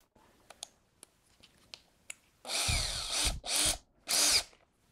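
A few light clicks and taps, then a power drill with a hole saw whirs in three loud bursts, biting into wood up close.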